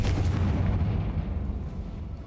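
The Confringo explosive spell cast in Hogwarts Legacy, a loud, deep booming blast that rumbles and slowly fades over a couple of seconds.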